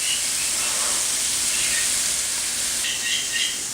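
Turkey kielbasa pieces browning in a full pan give off a steady, loud sizzling hiss that holds evenly throughout with no pauses.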